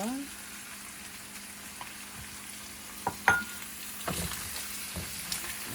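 Pork liver sizzles in a pan for Filipino pancit gisado, a low steady frying hiss with a few sharp clinks and stirring scrapes. A voice is faintly heard in the background.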